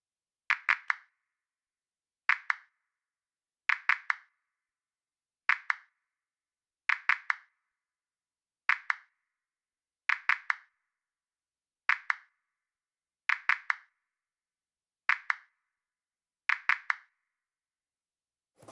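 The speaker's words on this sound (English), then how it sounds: "these claps, these are all independent claps. These are 4 different claps that are taking place" Four separate hand claps, soloed in a Pro Tools mixing session, strike in a steady repeating pattern, each hit a quick cluster of sharp close slaps spaced about every one and a half seconds with silence between.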